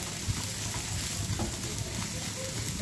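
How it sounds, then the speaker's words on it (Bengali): Raisins fry in hot oil for Afghani chicken pulao, a soft continuous sizzle and bubbling close by with occasional small pops and stirring, no voices over it. "এটাকে আমি ভালো করে ভেজে নেব।"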